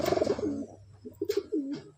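Pigeons coo in a loft, several soft, throaty rolling coos in quick succession, close and clear, with no talking over them.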